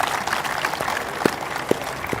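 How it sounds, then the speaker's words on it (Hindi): An audience claps to welcome a DIG on stage at an Independence Day celebration among CRPF troops. The applause is moderate and steady, with a few sharper individual claps standing out near the end. "जोरदार तालियों के साथ स्वागत कीजिए"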